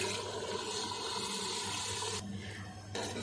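Chickpea cooking water pours into a pot for a black chickpea broth, a steady splashing gush of liquid that runs continuously and then briefly thins before resuming, close and alone.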